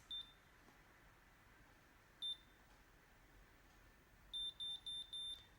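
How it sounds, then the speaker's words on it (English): An electric hair curler gives short, high, clean electronic beeps: a single beep, another about two seconds later, then a quick run of four in a row. The beeps are faint, with no talking. "then I wait for the beeps"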